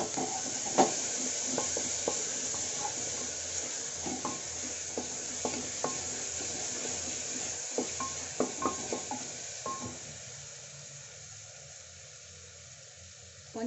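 Chopped onions and tomatoes sizzle softly in a pan for a black-eyed pea kurma, with a steady hiss broken by repeated scrapes and taps of a stirring spoon that fade toward the end.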